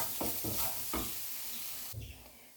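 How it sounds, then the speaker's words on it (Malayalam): Grated coconut and curry leaves sizzle in a hot pan for a chicken curry, with a few scraping stirs at the start, then a steady crackling fry up close. "ഇതെല്ലാം ഒന്ന് മൂത്ത് പാകമാകുന്നവരെ നമുക്ക് ഇളക്കി കൊടുക്കാം."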